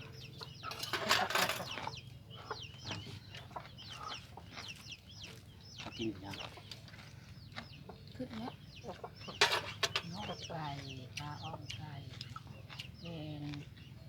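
Chickens clucking close by on a rural Lao-style farm, a steady stream of short clucks and calls with one louder burst early on and another around the middle, with people talking throughout.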